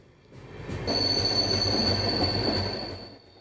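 The Kanchankanya Express passing through the Dooars forest near Chapramari at controlled speed: a rumbling rush of wheels swells and fades, with a sustained high wheel squeal partway through and no voices.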